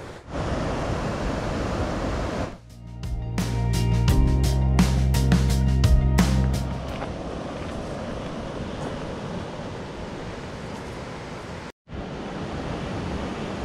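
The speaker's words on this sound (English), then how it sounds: "This is the water running from the lake and we are following it upstream." Water running out of a Norwegian lake with an unusual color, a steady broad rushing flow heard close by, briefly overlaid by a few seconds of louder clattering and tonal noise in the middle.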